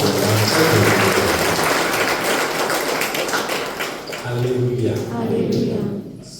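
A church congregation clapping hands, a dense continuous patter of many hands over a loud voice speaking, fading out near the end.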